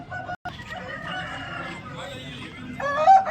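A red country rooster crows at a Sunday country chicken market in Vijayawada. The close, strained call is followed by more clucking, with market voices faintly mixed in.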